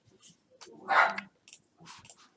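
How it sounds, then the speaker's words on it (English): A dog barks a few times in another room, muffled and somewhat distant, with one stronger bark in the middle and softer yips around it. "I don't know if you can hear my dog barking"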